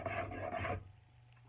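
A rasp smooths a wooden axe handle in two quick rough strokes, close and dry, followed by a brief pause and the start of another stroke.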